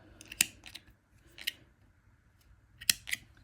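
Crochet yarn being snipped with scissors while making a corner-to-corner baby blanket: a few sharp, close cutting snips spread irregularly over a quiet background, with no talking.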